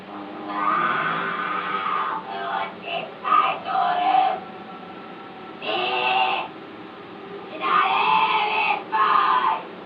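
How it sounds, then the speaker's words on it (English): A woman's shrill, strained screams from an exorcism recording come in repeated long bursts, each rising and wavering, with brief gaps between them. "You know, she's screaming."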